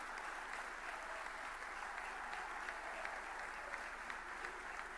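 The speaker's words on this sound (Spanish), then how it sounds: "Un fuerte aplauso para todos ellos," A crowd at a political rally for Argentina's President applauds steadily, a broad even roar of many hands heard from a distance for five seconds, fairly quiet overall.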